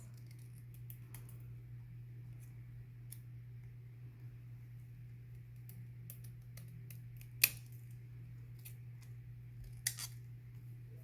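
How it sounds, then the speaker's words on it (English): Scissors trim the edges of a piece of shrink plastic, giving a few faint snips and two sharper clicks over a quiet, low electrical hum. "Then I'll use my scissors again to trim the edges round."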